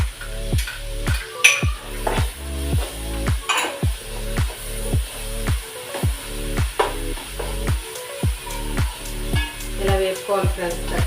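Ground masala paste frying in a pan with tomatoes and green chillies for a raw-mango fish curry, a steady sizzle under repeated stirring and scraping while a voice talks throughout.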